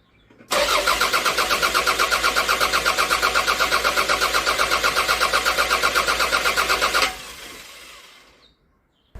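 A neglected Toyota 3S-FE engine cranks on its starter for about six seconds without catching. The rapid, even whirring pulses stay loud and close, then the cranking cuts off to near silence.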